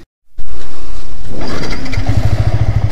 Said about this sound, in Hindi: तो ये ब्रिज हम लोग बाइक लेके जा रहे हैं